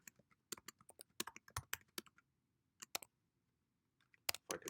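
Keys clack on a computer keyboard in quick, uneven bursts of typing with short pauses between, close and fairly quiet, no voices.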